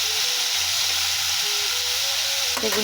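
Onions and green chillies fry in a pan for a quick pasta dish, giving a steady, close sizzle with a bright hiss and occasional faint stirring, and no one speaking.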